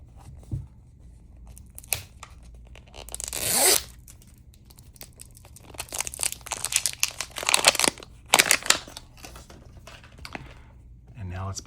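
Crisp tearing and crinkling of Mini Brands toy packaging, with several sharp rips and rustles, close up, mixed with brief handling noises and some speech.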